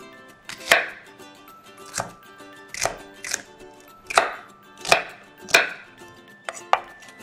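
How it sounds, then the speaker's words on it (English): Fruit and vegetables, including onions, are chopped into cubes on a board with a knife for a Nyonya spicy sour fruit salad. About eight crisp, separate chopping strokes come close up at an uneven pace, with no talking. "Love to cut in cubes."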